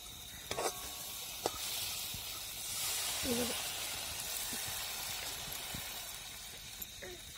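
Water goes into hot, oil-separated masala for spicy shev bhaji in a pan, giving a soft broad hissing sizzle that swells in the middle, with a few light clinks around it.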